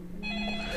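Telephone ringing in the game Deadly Premonition, a single steady electronic ring starting abruptly and holding loud and close for under a second.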